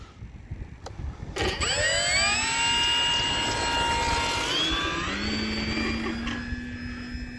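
A radio-controlled model jet, an E-flite Commander, takes off, its small turbine whining loudly and rising in pitch as it spools up, a steady high-pitched roar that holds throughout, with no talking.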